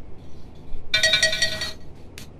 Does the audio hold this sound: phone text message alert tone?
yes